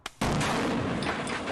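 Small depth charge detonated inside a safe: one sharp, heavy blast after a faint click, followed by a sustained roaring wash of noise that slowly fades, loud and close with no voices.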